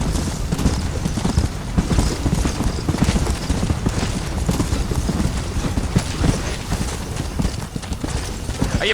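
Horse hooves clip-clopping in the video game Red Dead Redemption, a dense, steady rhythmic trotting close up over continuous background noise.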